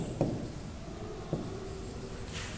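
Chalk or marker writing on a board during a maths lesson, a couple of faint tapping strokes and scratchy scrapes over quiet room noise.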